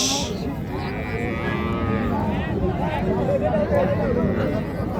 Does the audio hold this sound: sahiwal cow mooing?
yes